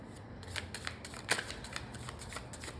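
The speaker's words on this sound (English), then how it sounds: "they want me to shuffle one more time" Tarot cards being shuffled by hand, a soft riffling flutter of paper close up in a quiet room, with a few light taps and slaps through the short stretch.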